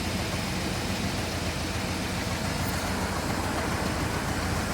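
A Volvo XC90 plug-in hybrid engine idling with a misfire, a dense, loud, steady rumble that stays constant and close throughout, no voices.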